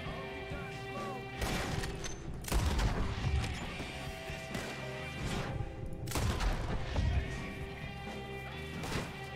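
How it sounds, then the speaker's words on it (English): Gunshots in Red Dead Redemption 2, with several sharp cracks and crashing impacts spread across a noisy, busy game scene at moderate distance, with a voice speaking faintly underneath. "Where are you shooting from?"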